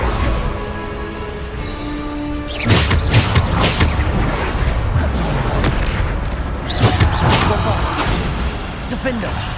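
Bombarda blasting spells explode in Hogwarts Legacy combat: two heavy booming blasts with crashing debris, loud and close, over a rumbling background of game effects and music.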